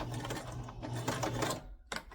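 A domestic sewing machine stitches Christmas bunting fabric made from squares and bias tape, in close, quiet bursts of rapid needle chatter separated by short pauses.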